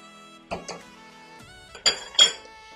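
Butter or margarine is set onto a plate with a few sharp clinks of dish and cutlery against it, a pair of knocks early on and two louder clatters near the end, over a faint steady background hum.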